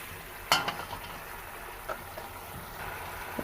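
Spatula stirring coriander into an egg tomato curry in a pan, a faint low sizzle broken by a few soft scraping clinks against the metal.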